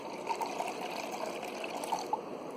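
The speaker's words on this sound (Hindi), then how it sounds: "तो मैं इसमें डालूँगी आधा ग्लास पानी" Half a glass of water is poured into a bowl for cleaning a microwave, making a continuous close trickling, splashing stream throughout with no talk.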